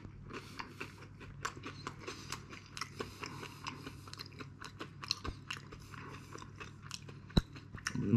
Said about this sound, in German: Einfach mal hier in die Spitze beißen.